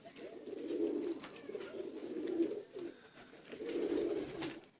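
A male kamagar pigeon from a breeder pair coos nearby in soft, low, throaty rolling phrases that repeat with short breaks, and faint background noise sits underneath.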